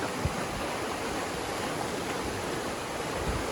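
A river on the Pinhoti Trail rushes steadily close by, a continuous broad wash of flowing water with no voices and no breaks.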